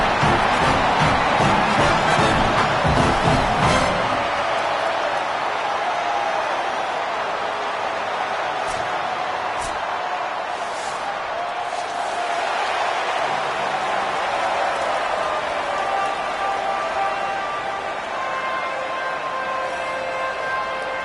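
Stadium crowd roaring at kickoff of a neutral-site college football season opener in a video game, a steady loud wash of cheering with heavier rumble in the first few seconds that continues alone.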